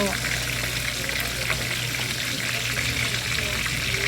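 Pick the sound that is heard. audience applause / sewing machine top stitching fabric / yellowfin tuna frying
yellowfin tuna frying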